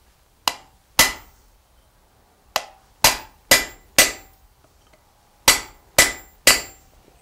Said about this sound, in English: go ahead and cut a section of this off using a chisel